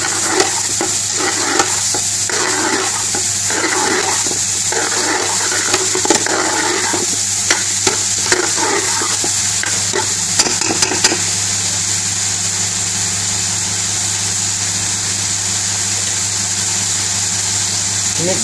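Chopped onions with salt fry for a Bengali meat and potato curry, giving a loud, steady sizzle with busy stirring and scraping for the first half, then an even hiss as the stirring stops.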